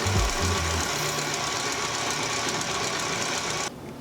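An electric mixer whips cream at medium-high speed with a steady, loud, buzzing whir that runs unbroken and drops slightly in level near the end.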